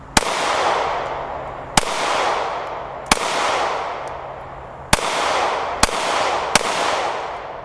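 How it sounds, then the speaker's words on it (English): Gunshots fired at a target while testing an OSIGHT SE optic ring out as a string of sharp, loud cracks at uneven intervals, each followed by a rolling echo that fades before the next. "So I'm gonna take a 5-shot group at the head box here"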